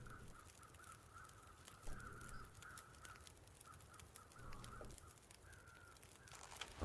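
Crows caw repeatedly in The Long Dark, a steady run of harsh calls over a constant wind-like background, some near and some farther off.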